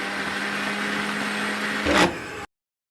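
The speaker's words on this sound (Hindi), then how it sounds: "काट कर मैं इसको ब्लेंडर में डालकर इसका एक पेस्ट बना रही हूँ" Electric blender whirring steadily while blending chopped ingredients into a smooth masala paste for achar gosht, a continuous loud motor drone with a brief surge near the end before cutting off abruptly.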